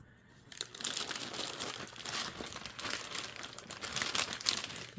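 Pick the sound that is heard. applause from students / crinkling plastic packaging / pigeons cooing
crinkling plastic packaging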